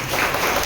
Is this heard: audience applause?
yes